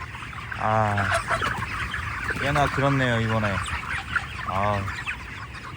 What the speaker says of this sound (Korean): 닭들을 진짜 오랜만에 봅니다.